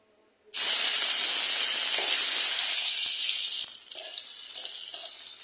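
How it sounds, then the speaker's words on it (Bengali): Small shrimp hit hot oil in a pan with a sudden loud hiss, then fry in a steady, close, crackling sizzle that eases slightly after a few seconds, with no talking. "মাছগুলোকে একটু হালকা ফ্রাই করে নেব, একটু হালকা লালচে হবে"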